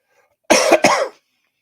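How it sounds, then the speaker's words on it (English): A single close, sharp cough in two quick bursts, alone against silence. "God, I hate that friggin' cough."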